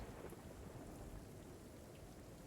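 A thunderstorm with heavy rain serves as an ambient sound effect for a Star Trek tabletop game, a steady faint hiss of rainfall with low rumbling underneath and no voices.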